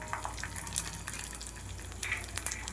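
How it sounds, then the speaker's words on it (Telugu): Mustard seeds, cumin, chana dal and urad dal crackle and sizzle steadily in a little hot oil for tempering a ridge gourd coriander chutney, with sharp pops scattered over a continuous frying hiss. "కొంచెం ఆయిల్ వేసి పోపు వేసుకోవాలి."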